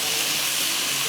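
Tomato puree frying in a pan, giving a steady, close, bright sizzling hiss that runs unbroken and fairly loud throughout.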